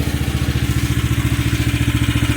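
A Briggs & Stratton 13.5 engine on a 1.5-ton mini excavator runs steadily during break-in, a loud, close, rapid even thumping with a faint mechanical clatter and no voices.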